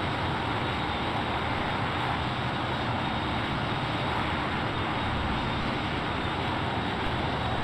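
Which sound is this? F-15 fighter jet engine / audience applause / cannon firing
F-15 fighter jet engine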